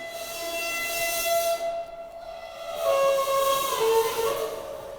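A metal object bowed to produce an eerie, sustained scraping tone with whistle-like pitches that waver and shift midway, fairly close and alone with no talking.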